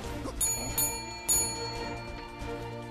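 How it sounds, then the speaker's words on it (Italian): Repeated bell-like rings on a doorbell, several bright struck tones about every half second with lingering resonance, loud and close, alone without talk. "E basta con sto campanello, brutto cornuto!"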